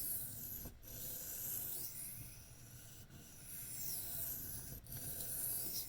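A Case Sod Buster Jr knife in chrome vanadium steel is stroked freehand across a fragile Naniwa whetstone, giving a steady, close gritty rasp that runs continuously, broken by three brief pauses, with no voices.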